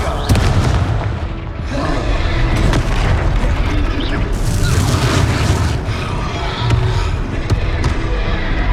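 Confringo blasting spell going off during a troll fight in Hogwarts Legacy, a dense, loud barrage of booming explosive bursts and crackling impacts that keeps going for several seconds.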